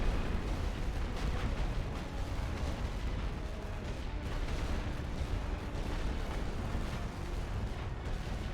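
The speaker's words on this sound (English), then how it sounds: "We've got artillery coming in." Artillery barrage hammering the French lines at the Second Battle of Ypres in a World War I video game, a steady, dense roar of rumbling blasts and distant booms that never lets up, with no voices.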